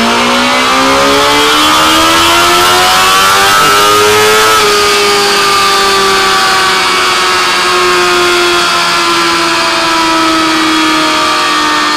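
Loud 2017 Suzuki GSX-R1000 engine held at high revs on a dyno with the exhaust nearly closed, pitch climbing steadily then dropping slightly and holding, close and continuous.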